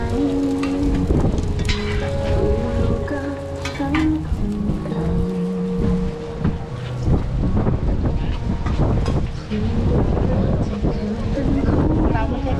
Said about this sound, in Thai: โอ้โหนี่ลมแรงลมแรงนะลุง